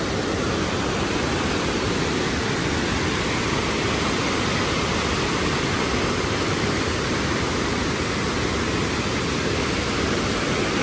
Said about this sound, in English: So that's quite a volume of water going over there.